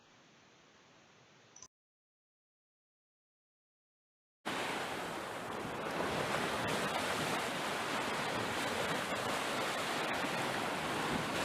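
Steady ocean surf washes in as a dense, continuous broadband roar, preceded by a brief stretch of softer noise and a few seconds of silence.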